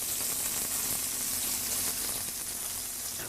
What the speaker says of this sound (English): So the rub is nicely browned on there, searing in the flavor.